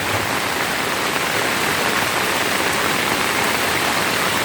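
Steady, dense rain pours down without a break, falling close by on a waterlogged spot outside a house, with no voices.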